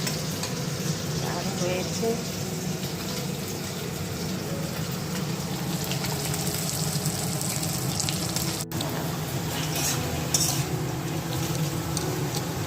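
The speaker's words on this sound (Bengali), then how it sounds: "আলু করলা পেঁয়াজ দিয়ে ভাজা হচ্ছে" Potato, bitter gourd and onion frying together in a pan, giving a continuous, fairly loud sizzle with faint stirring, while a voice briefly speaks.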